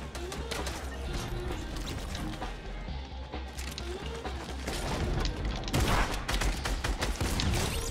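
Tactical shotgun blasts in a video game come as a run of sharp bangs and crashes, with mechanical clatter between shots and a denser burst toward the end.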